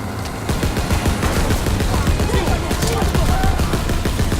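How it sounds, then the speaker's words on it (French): Machine gun fire in Call of Duty WWII during Operation Cobra, a dense, continuous rattle of rapid shots mixed with game explosions and action noise, loud and close throughout. "Je me mets à la mitrailleuse!"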